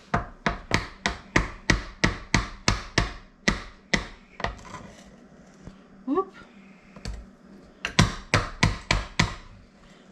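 An electric mixer beater is tapped against a bowl to knock off muffin batter, producing rapid runs of sharp, close knocks in a steady rhythm, pausing midway for a brief spoken word before another quick burst.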